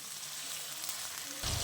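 Chicken pieces sizzling and frying in a pan while being browned for a chicken curry, a steady close hiss of hot oil that grows louder near the end.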